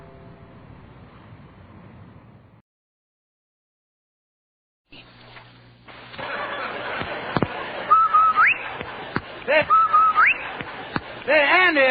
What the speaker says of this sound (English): Did you hear that, the whistle?